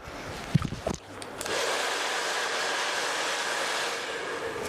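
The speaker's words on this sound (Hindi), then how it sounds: "रूट पे ड्रायर करेंगे।" A handheld blow dryer drying hair at the roots while curls are being set, its steady airy whoosh starting after a few brief knocks and running loud and constant to the end.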